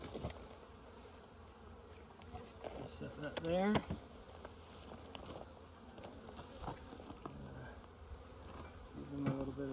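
Honeybees buzz steadily around a hive while a person speaks briefly, with some handling clatter and rustling up close.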